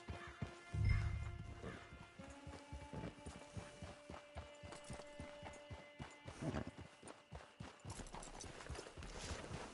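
Horse hooves clip-clop at a steady walking pace in a video game, with a rhythmic series of soft, fairly faint hoofbeats and a louder thump near the start, over quiet background music.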